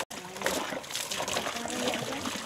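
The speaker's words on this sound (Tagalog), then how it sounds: "Pilit tinatanggal ang lagkit at alat ng dagat. At sabay-sabay na rin silang naligo." Children rinse seawater off with a basin of water, splashes and trickles pouring continuously at close range, with faint voices underneath.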